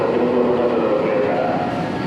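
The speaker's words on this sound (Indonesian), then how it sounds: "Inilah teman-teman kereta api Malabar." Malabar passenger train at Kebumen station, a steady loud rumble of rolling wheels and carriages close by, with no voices.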